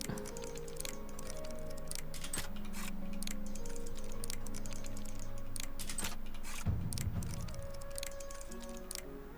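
Lockpicking in the video game Oblivion Remastered: a string of sharp, irregular clicks and ticks, close and fairly quiet, over a low droning game background with one heavier clunk near the end.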